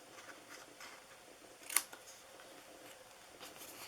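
Scissors cutting tabs into paper for a DIY Christmas purse gift box: quiet, close snips in a loose rhythm, with one sharper crisp snap near the middle.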